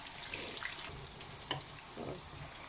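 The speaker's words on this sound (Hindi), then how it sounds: "ये देखें फ्राई हो चुकी है, गोल्डन ब्राउन हो गए हैं" Masala-stuffed bitter gourds (karela) frying golden brown in a pan, a continuous soft sizzle with faint crackles and a few stirring scrapes, steady and close without any talk.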